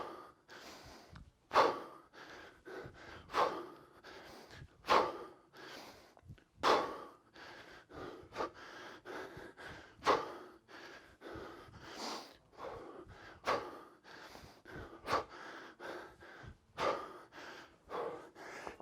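Heavy, rhythmic breathing during a kettlebell home workout: repeated sharp gasps and forceful exhales roughly every second or two, close to the microphone, with no talking.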